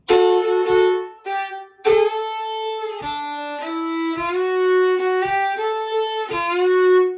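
A bluegrass fiddle plays a short kickoff lick of separately bowed notes, with a fourth-finger slide up to the A, bright and close.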